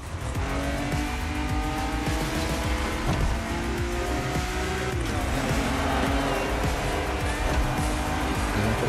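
A Porsche 911 racing in the video game The Crew Motorfest, its engine droning loudly and continuously with tire squeal mixed in throughout, no pauses.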